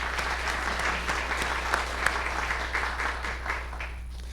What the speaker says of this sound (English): Seth, you could stand for a moment too and get some applause.